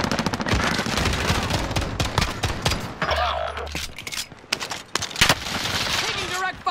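Rapid bursts of automatic gunfire in Call of Duty Warzone, with a FARA rifle in play; sharp close shots crackle in quick volleys with brief pauses, under intermittent game voices and chatter.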